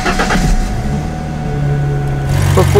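A car engine idles quietly after its exhaust leak was sealed, a low steady hum with a faint tonal drone throughout, a brief rise of mechanical noise at the start and a louder swell near the end.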